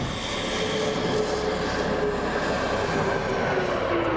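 A loud, steady roar of Blue Angels F-18 Hornet fighter jets flying past fills the whole stretch, broadband and constant with a faint whine riding on top, no voices.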